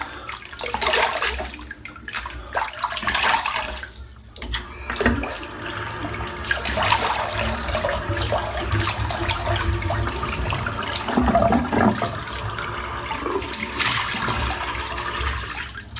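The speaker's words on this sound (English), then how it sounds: "Good splash of cold water." Cold water splashed onto the face over a bathroom sink during a wet shave, a steady run of wet splashing and running water that stays loud and close throughout with several brief pauses.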